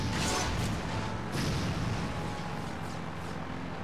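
Dense, continuous roar of vehicle explosions and blasts in the video game Jak 3, loud and close, with repeated booming bursts over a rumbling low end.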